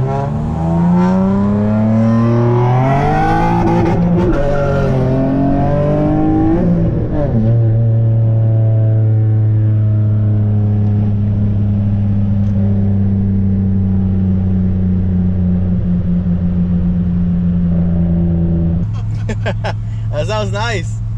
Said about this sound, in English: Looks like we're gonna race an SI.